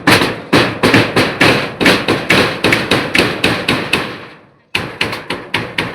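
Steady, loud hammer blows driving nails into wood while roofing an outdoor kitchen, about three strikes per second, close by, with a short pause before the pounding resumes.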